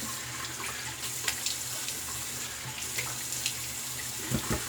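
Running tap water splashing as a shaving brush is rinsed under it, a steady close gush with small bursts of splatter, heard alone without any talk.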